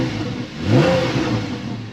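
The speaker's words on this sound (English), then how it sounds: "So there's the sound of that switchable exhaust." A 2014-era Porsche 911 Carrera 4S (991.1) revs hard with its switchable exhaust open, a loud, rising exhaust roar that swells midway and holds at a steady growl, close by and without talk.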